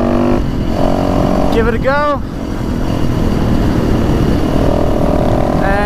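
Motorcycles riding through a mountain area, a loud steady engine drone throughout with someone talking over it and wind buffeting the microphone.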